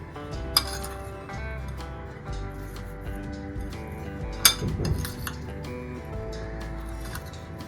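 A spoon clinks and scrapes against a bowl while salad with chilli flakes is tossed and mixed, with a few scattered clinks and one sharper knock standing out over soft, steady stirring.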